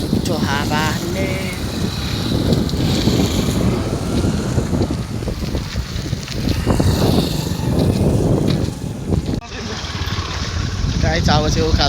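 Wind gusting across a bridge on a hiking trail up to Chinde Dada, a steady, close, rumbling roar that buffets the microphone for the whole stretch, with splashy bursts mixed in.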